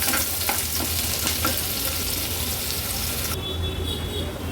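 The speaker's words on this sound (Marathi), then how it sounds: "कांदा थोडासा परतून घ्यायचा आहे" Medium-sized onion and garlic sautéing in a pan over a low flame hiss with a continuous close sizzle, punctuated by stirring scrapes, and the tone brightens toward the end; no one speaks.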